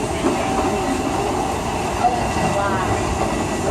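Aboard the Walt Disney World Railroad on its grand circle tour of the Magic Kingdom, the train runs with an even rumble and soft rhythmic clatter of wheels, a faint squeal sounding now and then.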